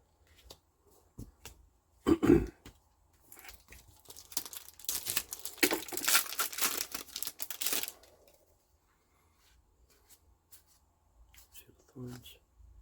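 Warhammer Age of Sigmar Champions TCG Onslaught booster packs are torn open, with foil wrappers crinkling and cards shuffling close up, a louder stretch of rustling in the middle and quieter handling around it, under occasional talk.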